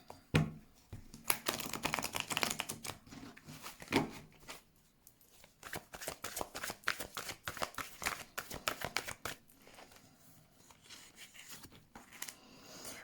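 Tarot cards are shuffled and drawn by hand, making close, quiet papery flicks, rustles and snaps. The handling is busy and nearly continuous at first, then thins to sparser taps. No one speaks.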